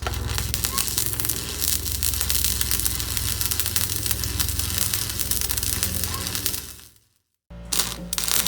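Crackling, sizzling welding on steel pieces of a truck-rim fire pit ash dump, a dense continuous buzz up close that cuts out abruptly near the end before resuming briefly.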